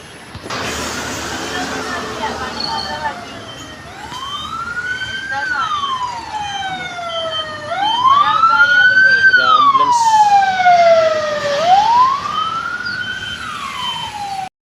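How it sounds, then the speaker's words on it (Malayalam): An ambulance siren wails in long rising and falling sweeps as it approaches and passes a roadside tea stall, growing loud and close midway, with traffic rumble underneath. "ആംബുലൻസ്"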